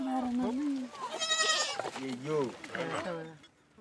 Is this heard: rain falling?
no